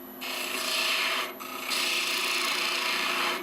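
A turning tool cutting the natural-edge end grain of a wooden vase on a lathe, giving a steady loud rasping scrape that breaks off briefly in the middle and then carries on.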